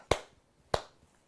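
A pair of single hand claps, loud and close, separated by a pause of over half a second, each one a crisp slap fading quickly into near silence with no voices.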